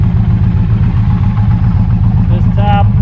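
An Indian motorcycle fitted with a tap performance exhaust and zombie baffle idles with a steady, deep, loud throb that continues throughout, with a brief higher tonal sound near the end.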